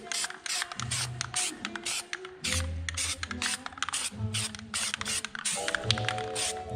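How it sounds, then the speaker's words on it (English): Zinc primer sprays from an aerosol can onto a car's rear spindle, in repeated short hissing bursts mixed with nearby clicks and mechanical clatter. "I'm gonna give this a spray around the, I guess that's the spindle, with the zinc primer"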